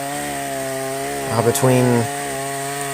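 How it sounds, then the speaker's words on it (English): A cheap Chinese chainsaw idles with a steady buzzing drone, briefly revving louder for a moment before settling back to idle, with a voice speaking over it. "I'm still really happy with this chainsaw"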